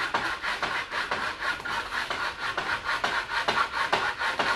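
Hand sanding wood for a planner craft table, a steady run of quick rasping back-and-forth strokes, close and fairly loud, with no talking.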